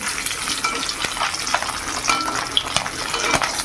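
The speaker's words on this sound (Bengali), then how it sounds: "এই চ্যাং মাছটা ভেজে নিচ্ছি" Chang fish (snakehead) frying in oil in a pan, a steady close sizzle with crackling pops and a few light scrapes of a utensil, no voices.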